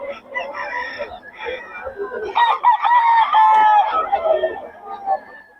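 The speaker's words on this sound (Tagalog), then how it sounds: "Maganda ng quality ng manok ng boss Gaga" Several roosters crow in overlapping calls, loud and close, with clucking fowl and a voice talking underneath, at a poultry market in Bocaue.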